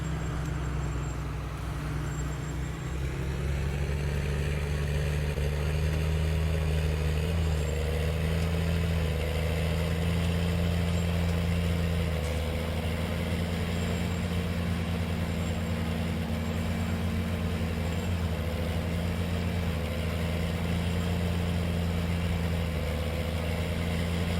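A John Deere tractor engine in the Farming Simulator 19 video game drones steadily on the Greenwich Valley map, a loud, constant low rumble with a faint whine above it and no talking.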